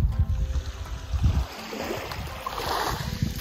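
Ocean waves wash onto a quiet beach on a southern Japanese island, a soft, fairly close surf with bursts of low wind rumble at the start, then gentler hissing wash.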